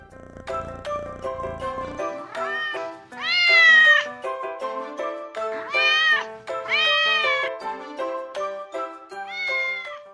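Repeated drawn-out meows, loud and close, coming in a run of separate cries; sounds like a person imitating a cat.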